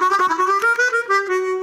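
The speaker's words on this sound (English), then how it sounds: "So without the pedal it sounds like this." A Hohner chromatic harmonica in D, played dry without an octave pedal, plays a short, bright melodic phrase of several notes with breathy attacks, clear and close with nothing else heard.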